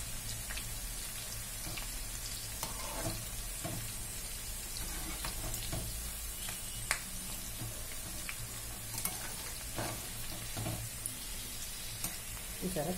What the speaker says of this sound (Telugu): చాలా చక్కగా వేగుతున్నాయి పకోడా, గోల్డెన్ కలర్ వచ్చేదాకా పకోడాలని మనం ఫ్రై చేసుకోవాలి.